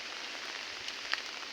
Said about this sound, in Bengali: যে আমি এখন হাঁটছি বৃষ্টিতে, মাথায় ছাতা নিয়ে ভিডিও করছি